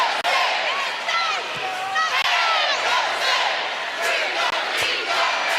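Dense, loud crowd roar fills a packed basketball arena at Mississippi State for a sellout game against LSU, with shouts and cheers swelling continuously throughout, never dropping away.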